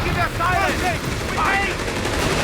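Gunfire from the WWII strategy game Company of Heroes 3, a steady stream of rapid shots and battle noise running throughout, loud and close.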